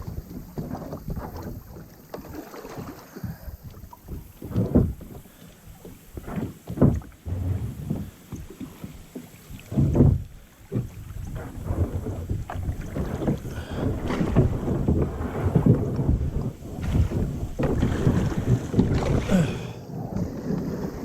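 A heavy kayak moves along a river from Wilson Creek toward the James River in southwest Missouri, giving irregular near scrapes, knocks and water swishes with some wind buffeting the microphone, no talking.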